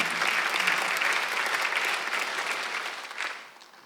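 Congregation applauding during a Sunday church service, a dense burst of clapping from many hands that holds steady and then fades away.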